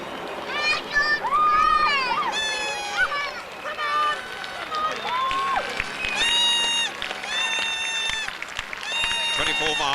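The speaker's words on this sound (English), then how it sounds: "The crowd's growing and packing the route now." A dense crowd lines the route of the 1991 London Marathon, with a steady cheering roar and scattered shouts and whistles. A commentator talks over it throughout.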